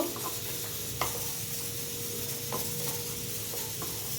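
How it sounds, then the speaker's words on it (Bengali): A spoon stirs jackfruit and prawn curry in a frying pan over a steady soft sizzle, with a few light scraping clicks of utensil on pan, close and fairly quiet. "ভালো করে নাড়াচাড়া করে নেব।"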